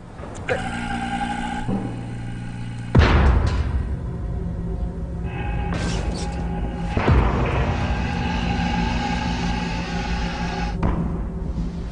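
Supernova explosion sound effect: deep rumbling booms hit at about three and seven seconds, layered with swelling synthetic whooshes and drones, loud and continuous, with no one talking.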